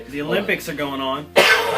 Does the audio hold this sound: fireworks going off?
no